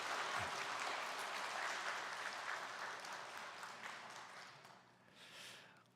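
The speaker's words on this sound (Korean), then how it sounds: "여러분 박수로 고마운 마음을 표하겠습니다" A church congregation applauding during a Sunday morning service to thank a departing ministry evangelist; dense, steady clapping from many hands fills the space, gradually thinning toward the end with a brief swell just before it fades.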